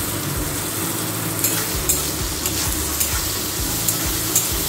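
Spinach greens fry in a pan with salt, turmeric and ginger paste, a loud continuous sizzle with a few regular spoon clacks and stirring scrapes, no voices.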